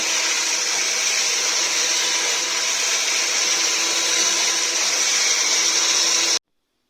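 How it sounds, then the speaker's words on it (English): An electric mixer beats vinegar, sugar, oil, pepper, mustard and tomato puree into a sauce, a steady loud whirring drone held for several seconds before cutting off abruptly. "We're now going to beat the ingredients into a nice tomatoey sauce."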